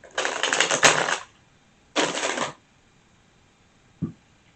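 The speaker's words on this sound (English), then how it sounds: "One more shuffle." Tarot cards are shuffled by hand in two crisp riffling bursts, a longer one then a shorter one, followed by a soft single tap, close and quiet.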